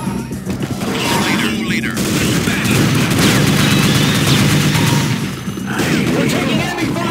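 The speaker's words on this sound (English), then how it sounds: "We're taking enemy fire!" Dense, continuous gunfire and explosions from a team deathmatch in Unreal Tournament 469d, loud and close for the whole stretch, with brief voices speaking over the shooting.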